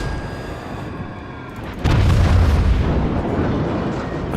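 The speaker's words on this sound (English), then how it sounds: "Let's see if we can drop some torpedoes on him." A torpedo hit on an enemy ship in World of Warships, a sudden deep booming explosion that rumbles on and slowly decays, loud and without talk.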